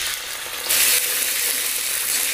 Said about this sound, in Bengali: তেলের মধ্যে আদাটাকে একটু ভাজা ভাজা করে নেবো যাতে আদার কাঁচা গন্ধটা চলে যায়